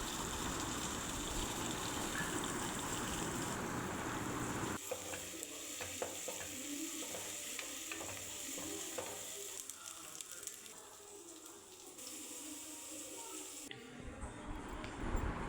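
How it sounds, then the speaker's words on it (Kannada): Onions and tomatoes fry in a pan with a steady sizzle and occasional stirring scrapes, close and continuous throughout, with no talking. "ನೀರುಳ್ಳಿ, ಟೊಮೆಟೊ ಎಲ್ಲ ಹಾಕಿ ಚೆನ್ನಾಗಿ ಫ್ರೈ ಮಾಡ್ತೀನಿ."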